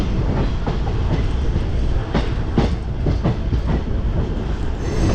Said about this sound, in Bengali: এই আলুয়াবাড়ি থেকে আমাদের ট্রেন ছেড়ে দিল।